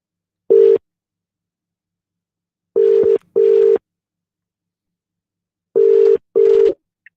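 A telephone call rings through: loud, clear tone bursts in a pattern of one, then pairs, with silence between them and no voices.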